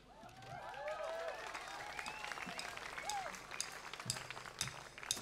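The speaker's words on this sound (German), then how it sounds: "Applaus" An open-air crowd applauds a band at the Bergfunk Open Air 2022 festival, with sustained clapping, whistles and scattered cheers, and voices calling out through the noise.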